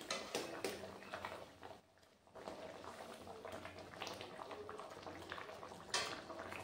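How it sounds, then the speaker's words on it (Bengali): Mustard and poppy-seed bata fish curry broth simmers with fried fish pieces added, giving a soft, steady bubbling and gentle liquid patter throughout, quiet and close with no voices. "ঝোলটা ফুটছে দেখুন, ভাজা মাছগুলো দিয়ে দিলাম"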